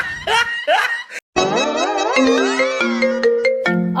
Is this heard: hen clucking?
no